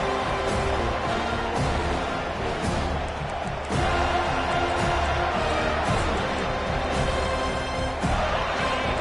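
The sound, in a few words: crowd roaring at football game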